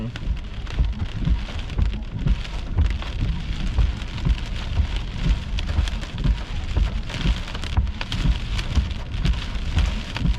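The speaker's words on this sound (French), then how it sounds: "Là, il y a de la grêle qui s'en vient." Steady, dense rain and hail pour down nearby during a Texas storm, with a constant hiss and patter of drops hitting surfaces, continuous throughout and no voices.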